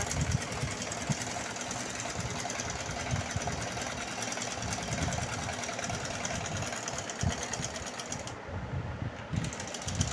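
A sewing machine stitches salwar cuffs, a steady fast mechanical whirr with rapid needle chatter running continuously and loud throughout, briefly easing near the end.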